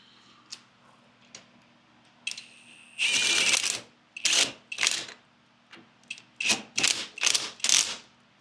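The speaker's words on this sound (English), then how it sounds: "I'm going to start going in a crisscross pattern and putting the lugs that came with the hub to attach it" Ratchet wrench tightening the supplied lug nuts in a crisscross pattern onto a spacer wheel hub of a Harbor Freight overland trailer, a few short clicks and then repeated bursts of rapid ratcheting, close and fairly loud, with no talk.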